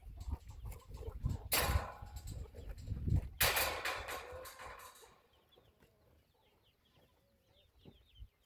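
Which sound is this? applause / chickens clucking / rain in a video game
chickens clucking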